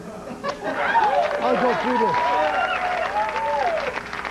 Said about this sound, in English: You love when they applaud like that.